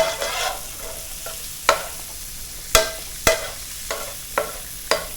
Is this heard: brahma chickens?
no